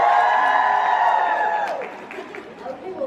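A book convention crowd cheers and whoops for Lord of the Rings in a loud, dense burst of voices that gradually dies away into scattered calls.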